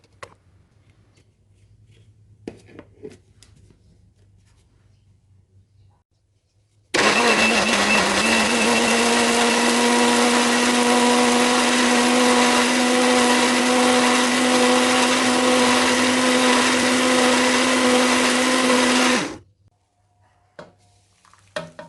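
A small kitchen blender grinds red chilies with a little water into spice paste for beef rendang, starting abruptly and running as a loud, steady whirring roar for about twelve seconds before cutting off, with quiet handling before and after.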